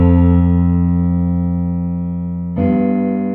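A chord progression with the bass voice emphasized holds one sustained, buzzy chord before changing abruptly to a new chord near the end, loud and steady with no talking.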